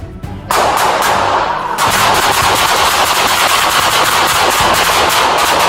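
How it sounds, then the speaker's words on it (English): Dense gunfire erupts in narrow store aisles during a police confrontation with criminals: loud, rapid overlapping shots from several guns, sustained without pause for several seconds. "A storm of gunfire erupts in the narrow aisles. Nearly 70 rounds exchanged in seconds."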